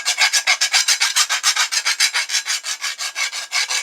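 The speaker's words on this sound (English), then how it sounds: "So always sharpen with the blade against you, right, away from you." A machete cutlass blade is sharpened with rapid, regular rasping strokes, about five or six per second, loud and close, continuing without pause and with no voices.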